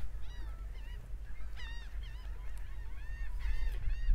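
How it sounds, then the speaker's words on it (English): Laughing gulls call repeatedly in a coastal bird colony on Mobile Bay, overlapping nasal cries at moderate distance over a low wind rumble, rising slightly louder toward the end. "You hear the laughing gulls laughing."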